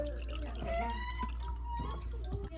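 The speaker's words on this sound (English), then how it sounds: "half cup of cold tap water to it." Cold tap water poured into a soy sauce mixture in a kitchen, a soft close trickle with drips under a low hum, faint background noise throughout.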